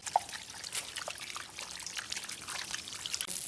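Blanched lamb spine for a lamb-spine hotpot cooked in a ground wok is rinsed under water, a faint, steady trickle and splash running throughout with no talking.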